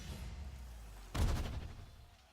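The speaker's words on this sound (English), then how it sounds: "Magic missiles." Magic missiles spell cast in the fantasy role-playing game Pathfinder: Wrath of the Righteous, a sudden loud blast of impacts over a low ambient game hum, decaying quickly.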